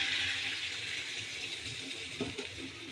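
Water gushes steadily into a pan of hilsa fish curry, a close, hissing pour that runs the whole time and ends in a few brief splashy bubbles.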